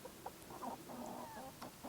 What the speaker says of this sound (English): Why did you name a chicken Betty White?